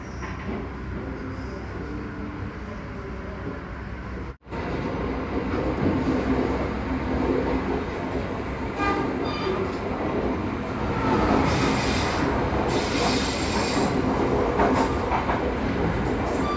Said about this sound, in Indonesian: KA61 Manahan diberangkatkan dari stasiun Cirebon Kejaksaan di jalur